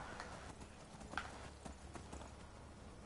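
A horse's hooves clip-clop in the Skyrim video game, a faint, steady series of hoof strikes with no talk over them.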